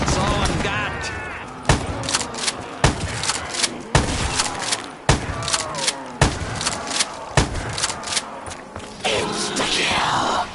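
Rapid bursts of gunfire from Call of Duty Black Ops 3 Zombies crack out in repeated sharp volleys, each shot loud and close, spaced about a second apart, with a brief chaotic flurry of game effects near the end.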